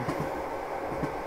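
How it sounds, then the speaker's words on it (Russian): Passenger train wheels clack over rail joints in a steady rhythmic run, a continuous rumbling ride with periodic knocks, moderately loud with no voices. "А колеса стучат, и идут поезда"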